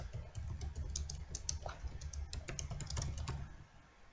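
Close, quick keyboard typing on a computer while writing a LaTeX document, a brisk run of soft clicking keystrokes that trails off at the end.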